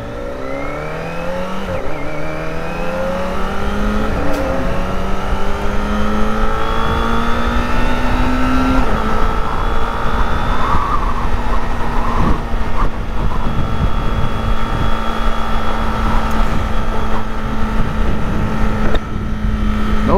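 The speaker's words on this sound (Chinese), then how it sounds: "像这样的一个引擎的转速的一个声音" A Kawasaki ZX25R four-cylinder motorcycle engine revs in repeated rising sweeps, climbing to a loud, sustained high-rpm howl that holds steady near the end, with wind buffeting in the background and no talk.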